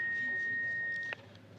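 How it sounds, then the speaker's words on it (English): A single steady electronic answering-machine beep sounds for about a second after a greeting message, then cuts off to quiet line noise. "Wait for the beep."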